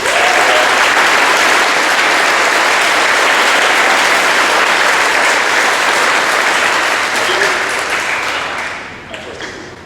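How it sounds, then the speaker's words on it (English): Loud, sustained applause for veterans at a high school Veterans Day ceremony, a dense crowd of hands clapping steadily close by before quickly dying away in the final second. "We end with another round of applause for all of our veterans here."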